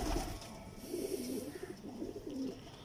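A breeder pigeon, a teddy-type pair kept at home, coos close by in soft low repeated rolling calls, several throaty phrases in a row over a quiet background.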